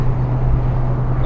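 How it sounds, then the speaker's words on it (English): The horn of a 1977 Ford F150 Ranger XLT pickup with a 400ci engine is held down, giving a loud, steady, low-pitched blare that lasts the whole moment. "Horn works."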